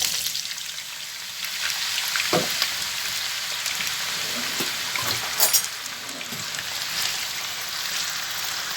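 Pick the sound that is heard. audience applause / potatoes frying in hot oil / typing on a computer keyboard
potatoes frying in hot oil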